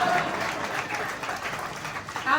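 Audience applause at a Hindi poetry recital at IPEX Bhawan, New Delhi: a steady wash of clapping from a crowd, sustained and moderately loud for the whole stretch, swelling slightly at the end.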